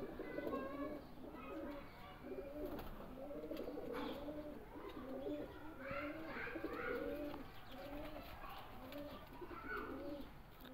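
Pigeons coo steadily in low, throaty repeated phrases, several birds overlapping at moderate distance, with faint chirps in the background.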